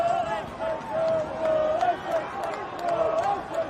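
A football crowd at Park Avenue, Aberystwyth, chants during a Welsh Cymru Premier match against Caernarfon. The tuneful, sustained chant rises and falls over a steady murmur of stadium noise, and it is fairly distant.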